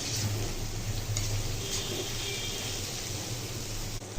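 Dried loitta fish curry with cumin powder sizzles steadily in a pan, a close, even frying hiss running throughout with faint stirring and no talk.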